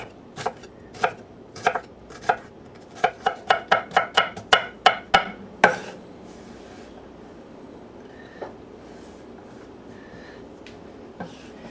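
Knife dicing a small onion on a board: a fast run of crisp close chops that speeds up, then stops, followed by a few sparse faint taps and knocks.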